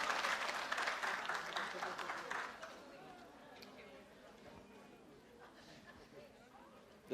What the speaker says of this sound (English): A round of applause, please, for Andy Marida